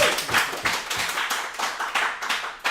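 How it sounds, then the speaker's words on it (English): A restaurant audience claps for a high school football head coach, sounding as a close, lively round of clapping that comes in uneven bursts and rolls on throughout. "Y'all better give him the rowdiest round of applause here."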